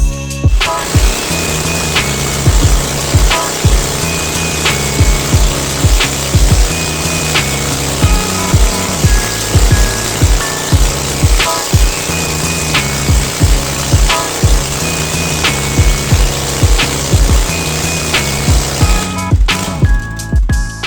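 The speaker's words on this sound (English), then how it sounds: "Well, that was full throttle, so I would say it's running right" A modified mini chopper motorbike engine held at full throttle, loud and continuous, with a rough buzzing drone broken by regular rattling pulses about once a second and no talking.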